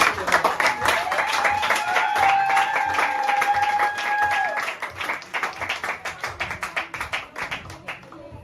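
Family members at an engagement ceremony burst into applause and cheers, loud mixed clapping under a held sung or shouted note that fades, leaving rhythmic clapping that continues to the end.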